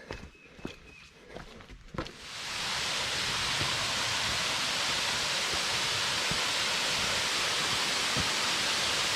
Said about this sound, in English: then we'll see the waterfall. I hear it.